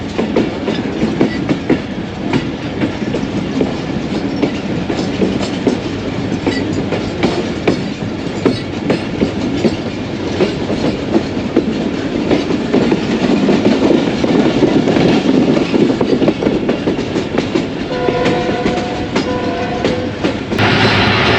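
Passenger express train 101UP Subk Raftar running near Lahore, with a loud steady rumble and rhythmic clickety-clack of wheels on rail joints throughout, heard from on board.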